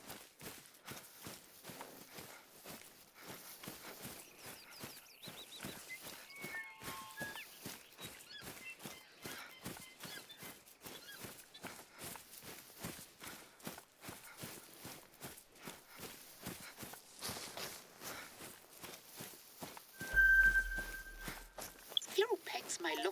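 Footsteps in The Hunter: Call of the Wild hunting game, a steady run of soft, quick thuds with a clip-clop feel, continuing under a voice, with a brief louder sound near the end.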